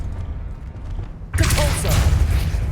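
A Confringo spell blast in the Hogwarts Legacy video game erupts as a sudden fiery burst about midway through, loud and close, following a stretch of low rumbling game ambience.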